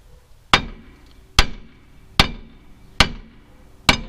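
A sledgehammer strikes the front passenger brake parts of a 1999 Kia Sportage five times at an even pace. Each blow is a sharp, loud metallic bang that rings briefly and sits close by with no talk.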